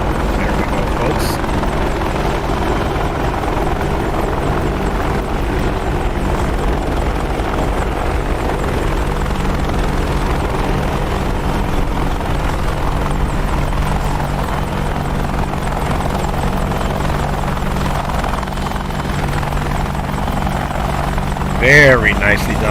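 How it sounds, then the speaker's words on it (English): AH-64D Apache helicopter in the DCS World flight simulator settling into a smooth landing, its steady rotor thump and turbine drone filling the whole stretch at a constant loud level, with a brief tonal chirp near the end. "If there was such thing as a butter helicopter landing, that was it."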